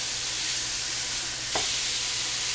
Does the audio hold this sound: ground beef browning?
yes